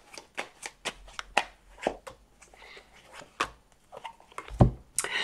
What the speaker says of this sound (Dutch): En de kaarten schudden om te kijken wat deze week voor jou gaat brengen.